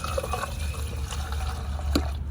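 Kerosene trickles into a container holding engine parts during a Royal Enfield Bullet motorcycle oil change, a short close liquid pour with a light gurgle and dribble.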